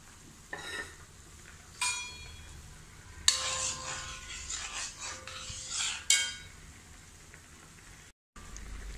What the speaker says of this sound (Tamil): அதை இந்த கடாயில் ஊற்றி லோ ஃப்ளேமில் கிண்டி கொடுத்துட்டே இருக்கணும் கட்டியாகிறது வரை